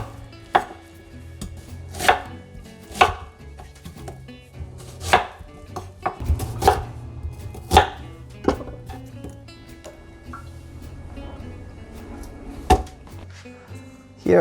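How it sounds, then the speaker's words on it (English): A knife chops a small onion into 1-inch square pieces on a cutting board, giving sharp, evenly spaced thuds about one per second, close and clear, with a faint low hum running underneath and no talk. "I'm gonna cut them into 1-inch square pieces and then put it aside."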